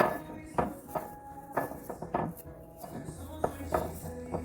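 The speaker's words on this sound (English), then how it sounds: "Clean up all the flour that's in your bowl." Leftover flour is cleaned out of a mixing bowl with a series of close, irregular scraping knocks and clinks of a utensil against the bowl, with no talking over them.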